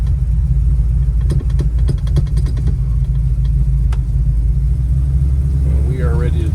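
A 1965 Chevrolet Chevelle Malibu coupe with a 500 hp 454 LS7 big block runs steadily while driving, a loud continuous low engine rumble with faint clicks on top and a brief tonal squeal near the end.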